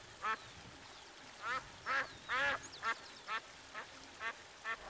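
Repeated quacking from ducks on a farm that also raises trout and geese, about ten short nasal calls spaced irregularly over a quiet outdoor background, fairly close and alone without talk.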